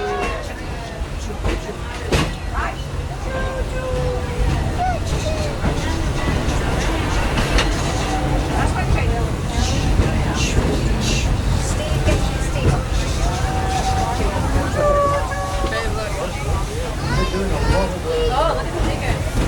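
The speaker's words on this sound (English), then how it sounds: "There are some who say that this steam train is a little old-fashioned, but for me, it's the only way to travel" Walt Disney World Railroad steam train at Magic Kingdom rolling along with a steady, dense rumble and clatter, broad noise throughout, faint whistle-like tones and a murmur of passenger voices mixed in.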